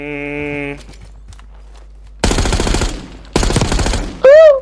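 Rapid bursts of automatic gunfire ring out in a zombie shooter video game, two loud dense volleys separated by a short pause, with a steady electronic tone before them and a chirping game sound after.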